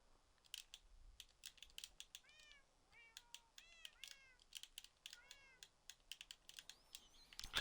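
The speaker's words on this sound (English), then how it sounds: "it's so constant with all the cat and dog noises" Cat meows come repeatedly in a room, several short rising and falling calls scattered among faint clicking and tapping, fairly quiet and close, with no talking.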